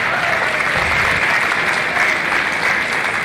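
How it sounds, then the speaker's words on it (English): Steady, sustained applause from an audience at a county fair junior livestock showcase, filling the space evenly and loudly from start to finish, with no clear speech on top. "Please clap your hands nice and loud."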